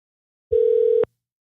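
One electronic telephone ringback tone plays for about half a second, a clean steady pitch that starts and stops abruptly against silence.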